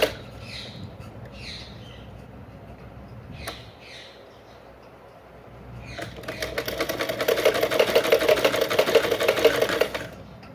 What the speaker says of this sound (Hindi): उसके बाद इसे भी सीधा स्टिच कर लेंगे